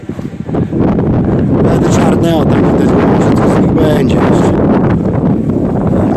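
Strong wind buffeting the microphone in a loud, continuous roar outdoors where young storks struggle against it, with faint voices underneath.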